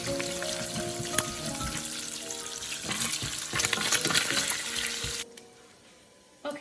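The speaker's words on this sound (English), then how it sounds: "you can see my bacon is pretty much done frying" Bacon frying in a pan gives a steady dense sizzle and crackle with occasional pops, close and fairly loud, then drops off sharply near the end.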